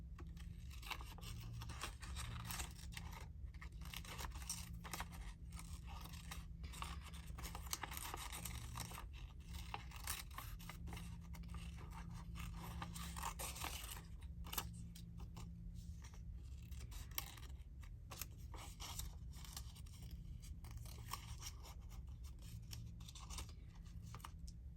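Paper ephemera being cut with scissors at a craft table, a long run of quiet, close snips and crisp paper rustles at an uneven pace, with no talking.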